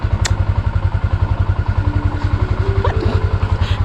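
A motorcycle engine idles close by with a steady, rapid thumping pulse. A few faint clinks sit in the background.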